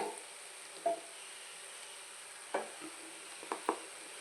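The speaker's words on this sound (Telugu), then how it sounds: "ఇప్పుడు బాగా కలుపుకుని కాసేపు ఫ్రై చేసుకుందాము" Carrot and beetroot curry being stirred in a pan, with a soft constant sizzle and a few distinct scraping stirs, most of them close together near the end.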